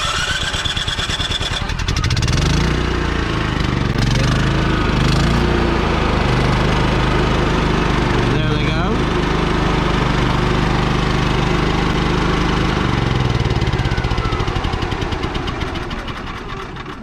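A Champion 3500 portable generator installed in an RV starts after a couple of seconds and then runs at a loud, steady engine drone, close by and alone, until the end.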